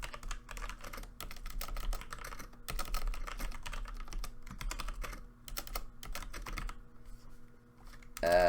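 Typing on a computer keyboard, bursts of quick, close key clicks separated by short pauses, fairly quiet, with a louder burst of clatter at the very end.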